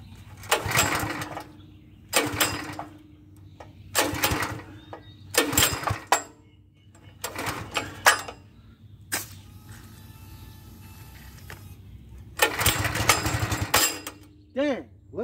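Simpson 4000 psi petrol pressure washer engine, choked, firing in short, loud, sputtering bursts separated by pauses, with a person talking between them.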